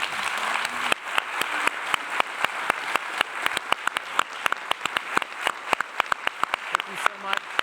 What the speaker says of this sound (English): would you join us in giving them a round of applause?